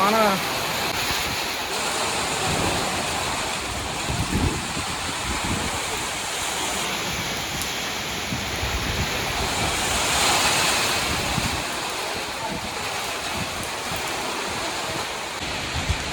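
Heavy rain pours in a steady, dense roar during a thunderstorm in Kuwait, with gusts of wind buffeting the microphone throughout.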